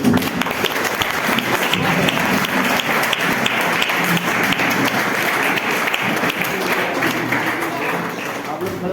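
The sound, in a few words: loud applause welcoming the women's section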